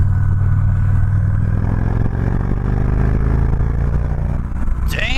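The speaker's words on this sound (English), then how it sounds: "For an almost 800-pound bagger, this thing actually gets up and goes." Victory Cross Country Tour 106ci, a nearly 800-pound bagger motorcycle, accelerating with a steady, loud low-pitched engine drone throughout, close to the microphone, ending with a brief sharp rising sweep.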